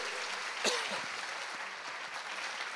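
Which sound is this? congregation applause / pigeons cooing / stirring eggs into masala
congregation applause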